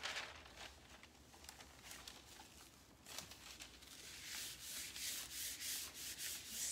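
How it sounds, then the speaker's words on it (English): A wooden side table is rubbed down by hand in quiet, repeated scrubbing strokes that grow louder and more rhythmic toward the end, with no speech. "Start rubbing it down."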